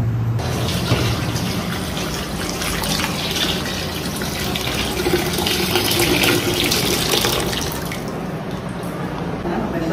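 Water poured into a cooking pot for a 1 kg batch of chicken biryani, a continuous rushing splash lasting about ten seconds, with talk faint underneath.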